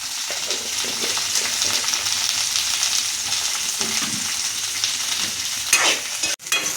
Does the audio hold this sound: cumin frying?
yes